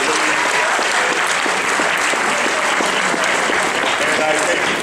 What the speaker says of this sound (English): So I give these kids a round of applause